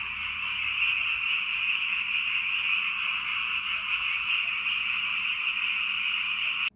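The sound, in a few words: frogs croaking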